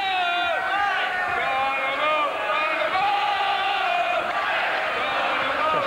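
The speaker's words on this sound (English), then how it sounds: "It's almost impossible to hear ourselves speak above this crowd" A dense boxing crowd roars nonstop for local fighter Colin Dunne in his bout against Phillip Holiday, with shouts, bellows and whoops layered into a loud, steady wall of noise throughout.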